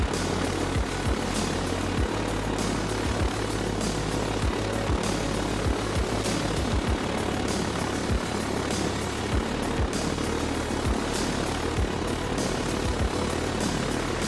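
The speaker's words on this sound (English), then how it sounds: "that's the prop wash" Propeller wash from an aircraft in the DCS flight simulator game, a loud, continuous airy roar with a regular low thumping pulse running under it, steady and close with no voices.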